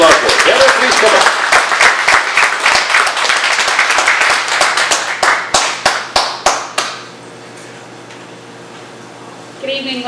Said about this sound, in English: Would you give her a round of applause like you know and love her?